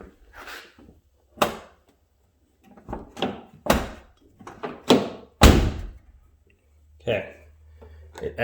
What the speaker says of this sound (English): It actually shut the door really tight, grabbed the latch just the way it's supposed to.